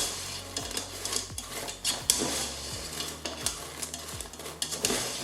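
Half-cooked fries stirred inside a Cookeo Extra Crisp, with a run of scraping, clattering utensil strokes against the pot over a faint steady sizzle, close and moderately loud.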